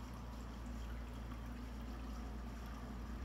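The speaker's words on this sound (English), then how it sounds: "Now with the aerator on, it is pretty strong." Pond aerator circulating water in a snapping turtle tank, a faint, continuous low bubbling and watery hiss that holds steady and unbroken throughout.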